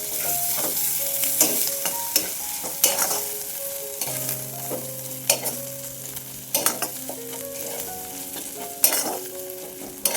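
A spoon stirs green masala mixed with chopped coriander, giving repeated scraping knocks and clatters against the pan over a soft background sizzle, close and fairly quiet.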